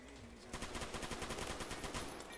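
A rapid burst of automatic gunfire from a SCAR PDW in the Roblox game Phantom Forces, quick evenly spaced shots in a continuous stream, moderately quiet and without voices.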